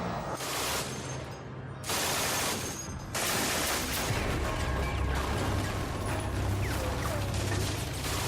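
Long bursts of extremely rapid MG-42 machine gun fire blur into a continuous tearing roar, with short pauses between bursts.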